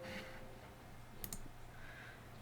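A computer mouse clicks as a file is dragged into a folder on screen. One soft, brief click sits over a quiet, steady room hum.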